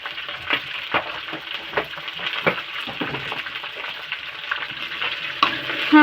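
Okra seasoned with salt and turmeric fries in a pan, a close crackling sizzle with irregular stirring scrapes and clatters throughout.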